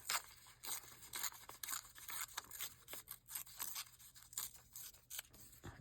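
Book page paper being cut and ripped to make ready edges, a close, continuous sequence of crisp snips and tearing rasps with an uneven rhythm and no voices.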